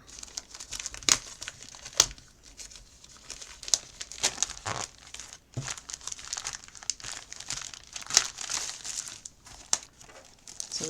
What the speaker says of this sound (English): Let's get this paper out of the way here.